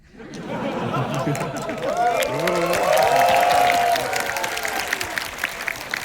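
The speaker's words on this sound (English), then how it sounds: "I love the way you guys applaud" An audience at a screening of the cult film The Room claps in a warm, sustained wave that swells and then thins out, with chatter and voices mixed through the applause.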